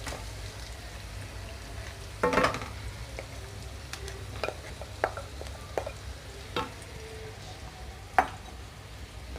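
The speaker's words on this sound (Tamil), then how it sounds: "இப்போ எல்லாத்தையும் ஒன்றா மிக்ஸ் பண்ணிடுவோம்." Onion and potato masala fries in a pan while a spoon stirs it, giving a soft sizzle underneath with a few scattered scrapes and clinks up close.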